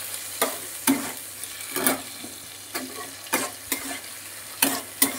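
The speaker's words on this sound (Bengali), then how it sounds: "এবার একটুখানি কষিয়ে নিই মশলাটাকে আলুর সাথে" Potatoes with Kashmiri chilli powder sautéing in a pan for a bele fish curry, a soft steady sizzle broken by sharp, irregular spatula scrapes and stirs, close and alone.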